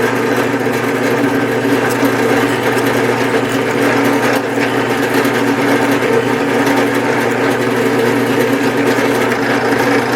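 Steady, loud machine drone of a drill press drilling a guitar body with an 1/8 inch bit, close up, holding an even whir throughout with faint scraping texture and no voices.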